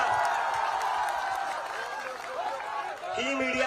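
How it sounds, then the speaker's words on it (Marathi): An audience applauds at a political speech rally in Nagpur, a sustained wash of clapping and crowd noise with a voice talking over it, the clapping fading slightly near the end. "तर या सगळ्यासाठी टाळ्या वाजवा"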